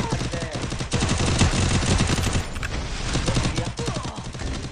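Rapid bursts of gunfire ring out in the Free Fire Max Clash Squad game, dense automatic shots in quick succession with a brief lull midway, while a player talks under them.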